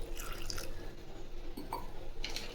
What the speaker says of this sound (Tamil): கொஞ்சமாக தண்ணி ஊற்றிக்கலாங்க.